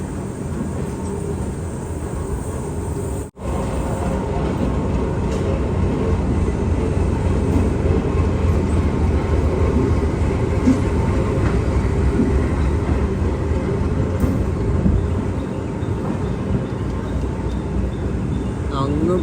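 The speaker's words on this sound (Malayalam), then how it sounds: "ട്രെയിൻ സിയാൽദ റെയിൽവേ സ്റ്റേഷനിലേക്ക് എത്തിക്കൊണ്ടിരിക്കുകയാണ്" Gaur Express arriving at Sealdah railway station's platform 14, a dead-end terminus: a steady, loud rumble of rolling train carriages with a brief dropout near the start, continuing throughout.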